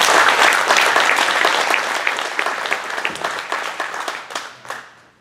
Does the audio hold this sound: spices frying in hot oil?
no